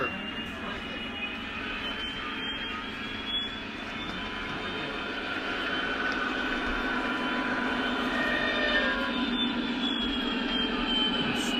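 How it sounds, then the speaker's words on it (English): A Lionel Legacy SD45 model diesel locomotive plays its squealing brake effect, a sustained high metallic screech over a steady rumbling hum that grows slightly louder toward the end, with no talking. "That's the squealing brake effects."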